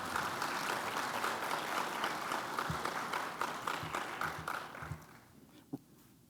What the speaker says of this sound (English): Oh, by the way, it's okay to clap.